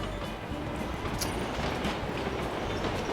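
A train arriving in the video game PUBG Mobile, a steady, loud rolling rumble of rail cars with clattering wheels filling the whole stretch.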